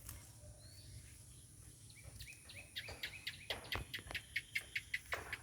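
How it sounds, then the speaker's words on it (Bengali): Birds calling outdoors in a rural village by a fish pond and paddy seedbeds, a faint rasping insect-like buzz at first, then a run of sharp, evenly spaced chirps repeating and growing louder toward the end. "পাখির শব্দ শোনা যাচ্ছে দেখেন।"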